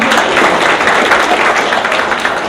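Dense, steady applause from an audience at an Oromo student gathering at a university, a continuous wash of many clapping hands without a break.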